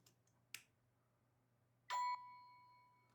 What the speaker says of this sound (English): you can hear the chime when it powers on